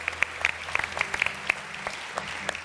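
A studio audience on a Turkish television talk show claps, a dense spread of sharp handclaps from many people, fairly loud and close, with no talking over it.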